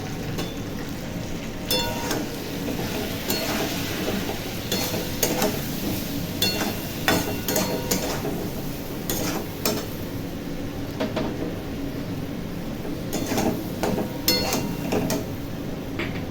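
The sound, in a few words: spices being sautéed in a kadai for fish curry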